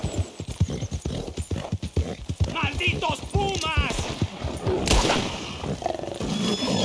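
Horse hooves clip-clop in Red Dead Redemption 2 along with a horse's whinny, as someone talks in German over the game sounds.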